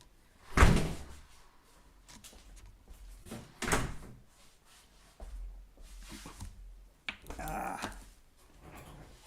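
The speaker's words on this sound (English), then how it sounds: "Let me close the door." A room door is shut with a loud thump near the start, followed by further knocks and bumps of the door and latch plus a rattling clatter, close by with no talk over it.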